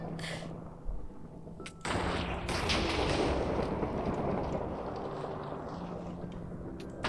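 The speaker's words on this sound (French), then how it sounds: "Trop bien vu qu'il y a les explosions qui vont..." Explosions go off in a Minecraft game modded with MCreator: a sharp blast, then a second heavy boom that opens into a long, loud rumbling roar that slowly fades.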